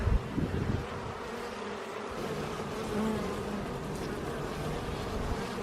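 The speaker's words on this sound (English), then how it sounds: "Bee, you are right where I need to put my hand." Honeybees hum and buzz from a garden hive with its top opened, a continuous close drone with individual bees passing near, no talking.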